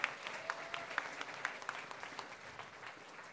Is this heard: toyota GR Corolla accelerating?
no